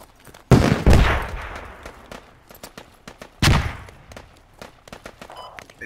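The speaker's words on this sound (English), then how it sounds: "They do hear shots to the east. Yeah, definitely shots." Two loud bursts of gunfire from the video game Squad, a sharp shot near the start and another around the middle, each followed by a decaying tail. Fainter scattered pops and distant shots fill the gaps between them.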